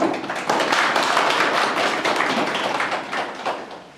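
Applause from an audience at a library reading contest and Librarian's Day ceremony in Sieroszewice, greeting a young prize winner: dense, steady clapping that fills the whole stretch and thins slightly toward the end.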